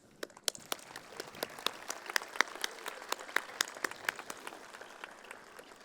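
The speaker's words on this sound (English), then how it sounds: "I think everyone in this stage right now deserves a well-earned round of applause." Applause from the audience at a high school graduation ceremony fills the space, a steady wash of many hands clapping with sharper individual claps standing out, moderately distant and continuous with no talk over it.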